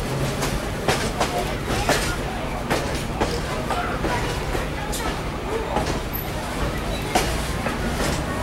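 Train wheels clatter rhythmically over a trestle, with repeated clicks and a steady rumble; voices talk faintly underneath.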